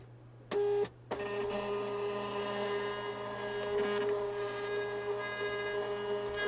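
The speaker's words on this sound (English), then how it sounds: "I guess I'm printing every single page" A desktop printer runs through a page print job, a steady close mechanical whir with a brief louder burst of feed noise near the start, then continuous motor hum and faint clicks.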